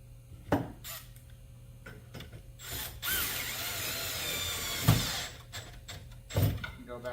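A power driver sinking a screw into a maple kitchen face frame, with a sustained whirring run in the middle and sharp mechanical clicks and knocks around it in a quiet workshop.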